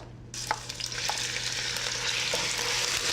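Grated onion pulp, about one and a half cups, dropped into shimmering hot oil and frying, bursting into a loud, steady sizzle right after the splash, with a few faint stirring clicks, close up.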